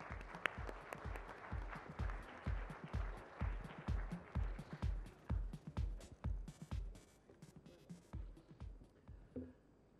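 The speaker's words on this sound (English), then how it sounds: "with a huge round of applause, I now invite Her Excellency Rosa Otunbayeva" An audience at a tech keynote session claps in rhythmic, fairly sparse applause that stays steady for several seconds before thinning out, fairly faint and distant.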